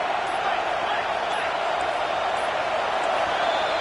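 A stadium crowd in the College Football 25 video game keeps up a steady, dense roar that holds evenly throughout, and a commentator talks over it.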